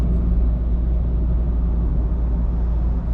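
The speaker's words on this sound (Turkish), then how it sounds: "Motor sesi genelde düşük süratlerdeyken içeriye daha fazla geliyor" Renault Clio 1.5 dCi diesel with EDC gearbox climbs a hill in low gear, a steady, loud, close low engine drone and rumble heard from inside the cabin.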